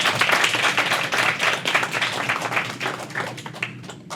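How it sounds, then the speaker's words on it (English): A podcast cruise audience breaks into dense, steady applause, many hands clapping together at close range with no talking, fading slightly toward the end. "let's give all of you a round of applause,"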